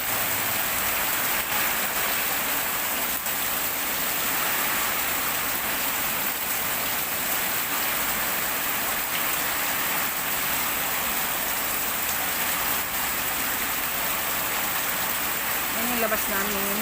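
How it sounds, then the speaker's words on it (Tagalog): Heavy rain pours down steadily outside a home, a dense, loud, unbroken hiss of drops hitting surfaces that fills the whole stretch, with a voice faintly underneath. "Super lakas ng ulan."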